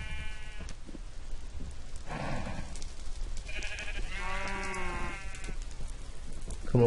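Sheep in the Minecraft video game bleat several times in a row, clear harmonic calls standing out over a steady background hiss of game ambience, with no talking.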